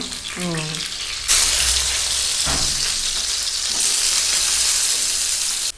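Fish (chapala) frying in hot oil in a pan, a loud continuous sizzle that surges in after a short faint opening, with a brief scrape of turning midway.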